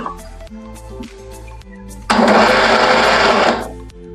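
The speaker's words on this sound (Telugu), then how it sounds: "ఇప్పుడు మిక్సీ పట్టేది అయిపోయిందండి" A kitchen mixer grinder whirs loudly as it grinds a masala of onion, chilli powder, turmeric, salt and coriander for stuffed brinjal curry. Quieter mechanical hum comes first, then a dense roar of grinding that lasts about a second and a half before dying away.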